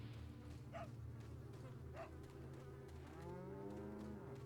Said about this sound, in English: Look at these cows. These drooly, sad cows.